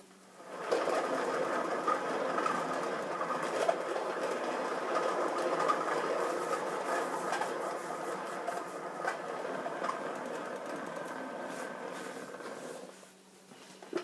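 A paint spinner turns an acrylic fluid-art pour with interference pigments, giving a steady mechanical whir and hum that runs evenly for about twelve seconds before winding down.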